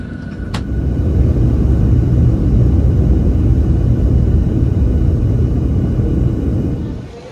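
Steady broadband airplane cabin rumble during flight, a dense low drone holding evenly throughout with a brief click near the start and no voices.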